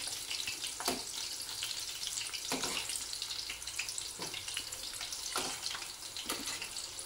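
Zucchini flowers and friggitelli peppers deep-fry in hot oil for a vegan fried platter, making a continuous bubbling hiss with several sharper crackling bursts spread throughout.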